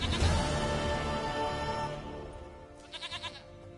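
Goat bleats in The Witcher 3, a short quavering run of three or four bleats near the end, following a louder stretch of game music and ambience.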